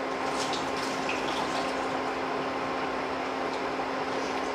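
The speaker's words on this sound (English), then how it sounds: "you're just gonna drain all the water from your cauliflower." Water draining from cooked cauliflower through a small sieve or colander in a home kitchen, a steady continuous splashing rush that holds fairly evenly for several seconds with no talking.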